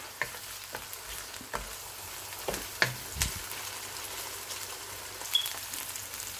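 Garlic cubes and ginger sizzling in a pan for a shalgam chicken gravy, a soft steady fry broken by sharp knocks and scrapes of a spoon stirring, close and fairly quiet, with no talking.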